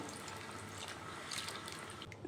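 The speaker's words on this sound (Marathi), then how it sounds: "आपल्याला भाजीमध्ये जेवढं पाणी घालायचं आहे तेवढं पाणी घालून घ्यायचं आहे" Hot water is poured steadily into a simmering fig-fruit vegetable curry, a short, even, splashing gush close by with no talking.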